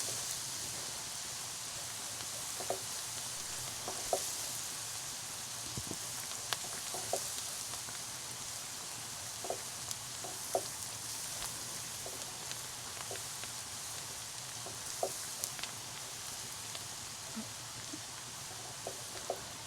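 Ginger and garlic sauté in hot oil for a chicken roast, giving a quiet, steady crackle with scattered small pops throughout and no voices.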